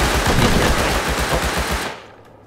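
Rapid automatic gunfire in the Rust survival game, a loud sustained burst of bullets in quick rhythm that cuts off abruptly near the end, with no talking over it.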